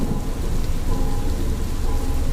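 A heavy downpour roars without a break on a dark roadside at night, with deep thunder rolling beneath the rain, loud and enveloping, no voices.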